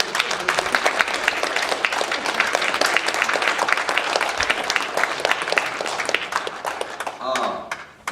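An audience at the Korean charity event Hope Korea 2015 breaks into strong, steady applause, a dense close-up wash of clapping lasting most of the stretch before fading, with voices audible near the end.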